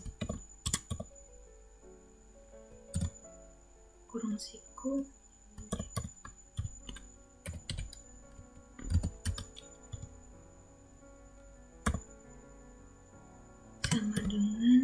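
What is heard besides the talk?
typing code on a computer keyboard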